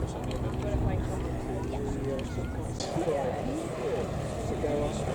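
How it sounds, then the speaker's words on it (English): A de Havilland DH-51 biplane coming in to land at an airshow, its engine a steady, fairly distant drone throughout, with a voice talking over it. "The DH-51 comes into land."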